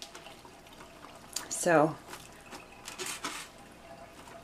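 Water rinses over salted zucchini noodles, a soft running trickle with brief splashing bursts, while a person talks over it.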